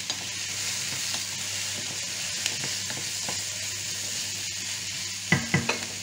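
Carrots are stirred in a hot pan for a venison stew and sizzle with a steady hiss, followed by a few sharp utensil clicks and scrapes near the end.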